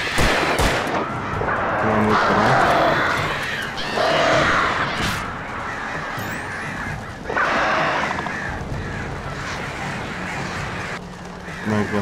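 Crows cawing in a video game amid gunfire, with repeated bursts of shots and harsh bird calls clustering in waves over a busy, loud game soundscape.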